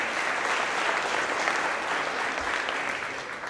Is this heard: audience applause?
yes